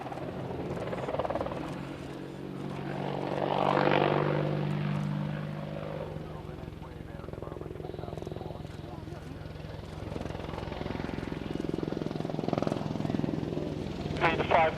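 An Apache helicopter arrives and sets down at the Royal International Air Tattoo airshow, its steady rotor and engine noise swelling and fading under ongoing radio chatter and talk.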